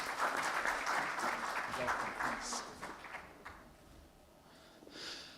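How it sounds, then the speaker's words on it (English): An audience applauds at the launch of a South Asia and Sri Lanka development report, a moderate wash of clapping that fades toward the end, with a voice faintly over it. "Another round of applause, please."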